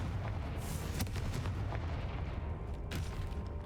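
A Confringo fire spell is cast in the video game Hogwarts Legacy, giving a loud, booming blast like artillery fire, with a couple of sharp bursts over a dense, continuous rumble.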